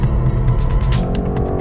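A 2020 BMW M8 Coupe powers out of a track corner after a slight oversteer, engine loud and close as it accelerates hard, with a raspy rising exhaust note over the short burst.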